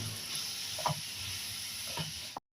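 Brinjal and broad beans sauté in oil for a sambar, a steady soft sizzle with a couple of utensil scrapes, close but quiet, ending abruptly.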